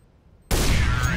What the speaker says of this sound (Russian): Встал, присел, головошот.